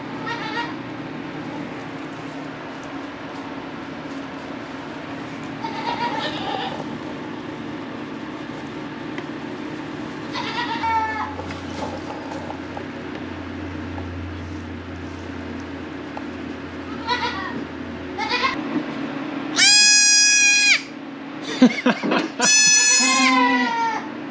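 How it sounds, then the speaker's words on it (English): Newborn baby goats, about twelve hours old, bleat in high, wavering cries on a dairy farm: scattered calls early on, then several loud, close bleats near the end over a steady barn hum. "So I just wanted to quickly show you guys these little baby goats because they're kind of cute."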